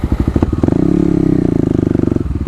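Kawasaki KLX250 motorcycle engine running close and loud, a rapid pulsing single-cylinder thump that rises in pitch as it revs, then drops back to a lower beat around a gear shift.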